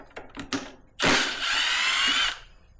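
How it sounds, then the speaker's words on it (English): A power tool, likely an impact driver or drill, removes 10mm bolts from a bike's shifter, a few light ratcheting clicks followed by a loud, close whir lasting over a second before stopping. "we're gonna take off these bolts"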